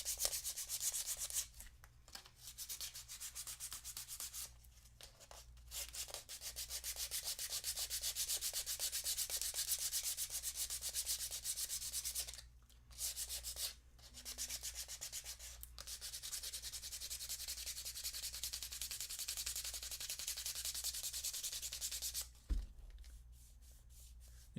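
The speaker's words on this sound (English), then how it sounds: "Sand, sand, sand," Hand sanding of a 3D-printed part, a steady, continuous scratchy rubbing that runs for long stretches, broken by a few brief pauses, close up with no voices.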